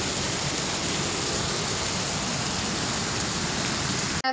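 Heavy downpour of monsoon rain, steady and loud broadband hiss of drops on surfaces with no gaps, continuing alone without voices until cutting off abruptly at the end.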